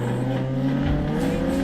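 Car drifting around the Ebisu circuit in the Assetto Corsa racing sim, a steady engine drone with sustained tire squeal running loud and continuous throughout.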